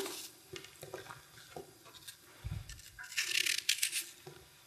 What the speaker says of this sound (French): On enlève le cœur de la pomme.